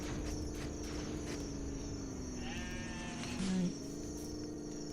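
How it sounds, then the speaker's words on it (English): Sheep bleat in the video game B-Grade Renegade, a short cute bleat rising briefly over steady game music and ambient noise, with a brief spoken word. "capturing sheep, rescuing sheep, which I always enjoy because they make cute sounds"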